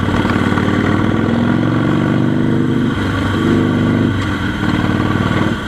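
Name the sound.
motorcycle accelerating, Harley Davidson or Continental GT 650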